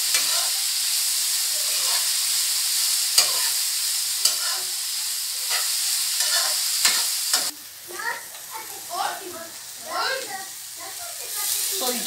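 Coconut fried rice with shrimps being stirred in a pot, a steady sizzle broken by scraping strokes of the spoon, then quieter, irregular stirring scrapes near the end.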